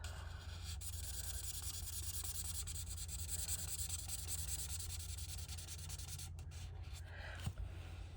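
Ink is coloured and blended onto paper for card craft, giving soft, continuous rubbing and scratching strokes that run quietly up close with no talk.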